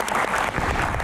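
A studio audience at a Q&A talk show claps for the guest, Kang Bima: a brief, dense burst of applause from a crowd, close and fairly loud.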